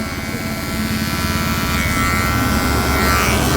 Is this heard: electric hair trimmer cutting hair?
yes